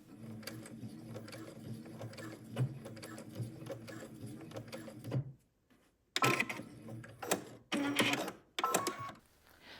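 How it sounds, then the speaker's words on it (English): A sewing machine runs a seam across a shirt dress band, its rapid needle chatter steady for several seconds, then a pause and short stop-start bursts of stitching, close and moderately loud. "we're going to go to the sewing machine and we're going to sew a seam across the band 5/8 of an inch up from the raw edge"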